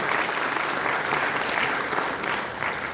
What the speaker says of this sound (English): So can we please have a round of applause?